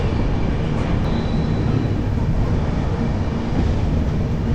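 The 13175 Kanchanjunga Express, running from Sealdah to NJP, pulls into Dakshineswar station with a loud, continuous rumble and roar that stays steady throughout, with no voices.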